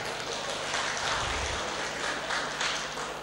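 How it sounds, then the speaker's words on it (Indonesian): Applause from an audience at a school foundation event rises as a soft, continuous patter of many hands, moderately distant with a low hum underneath, holding steady throughout. "Tepuk tangan."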